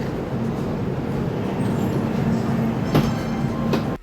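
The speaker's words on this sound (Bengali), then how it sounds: "ট্রেন কিন্তু একদম পাক্কা 10টা 15তে ছেড়ে দিল শিয়ালদা থেকে।" The Darjeeling Mail rumbles along after departing Sealdah station, a steady low roar of wheels and carriage noise heard from inside the train, with a couple of brief metallic clacks near the end.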